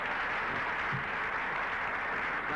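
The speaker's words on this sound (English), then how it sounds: "that certainly deserves applause" An audience claps steadily, a dense even wash of applause at a constant level for the whole stretch, heard alone with no talking.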